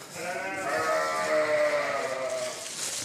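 A sheep on a farm bleating in one long wavering cry lasting nearly three seconds, close and loud, with no talking.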